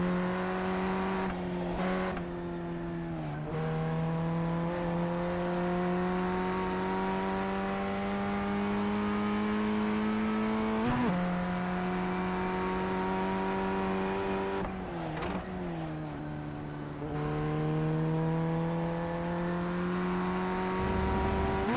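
Simulated race car engine in the iRacing video game on the final lap, droning steadily at high revs with rising pitch through each gear and brief dips and blips on downshifts, loud and continuous with no talk.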